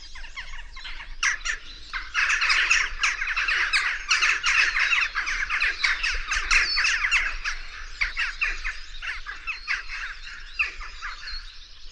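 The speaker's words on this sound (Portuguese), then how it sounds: "Agora vamos ouvir a gralha do Cinzento, que faz uns sons completamente diferentes." A flock of grey-naped jackdaws calls all at once, a dense, overlapping jumble of harsh squawks and chirps that stays loud and busy for about twelve seconds.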